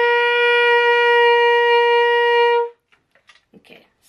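A saxophone sustains a single steady G for about two and a half seconds with the back key added, bright and harmonically rich, then cuts off into a few faint clicks and small noises.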